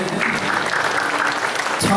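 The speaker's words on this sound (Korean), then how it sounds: "찬양의 박수 감사의 박수 올려드립니다." A church congregation breaks into applause after a prayer, a loud, close burst of many hands clapping steadily, with a voice briefly rising over it near the end.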